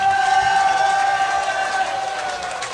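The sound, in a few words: audience applause for the band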